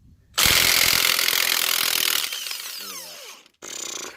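A power tool, likely an impact wrench, hammers loudly on a Honda CR-V crank pulley bolt in a rapid burst lasting nearly two seconds. A whirring tail-off, a pause and a shorter mechanical whir follow.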